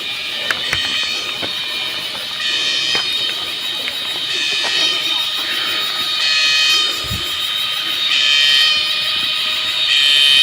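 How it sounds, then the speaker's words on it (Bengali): Loud, continuous insect buzzing from cicadas on a forested trail near Khoiyachara waterfall, a steady harsh drone at close range that swells and ebbs slightly without a break. "অনেকক্ষণ ধরে একটা বিকট শব্দ শুনছি, মনে হচ্ছে ঝিঝি পোকার শব্দ।"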